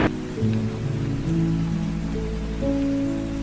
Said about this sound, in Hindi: तभी अचानक रास्ते में बारिश होने लगती।